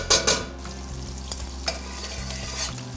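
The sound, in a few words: butter sizzling in a hot heavy-bottomed pan with oil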